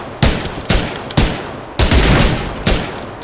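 Five sharp, loud bursts of gunfire in PUBG Lite crack out at roughly half-second intervals, each with a brief trailing rattle that decays before the next shot.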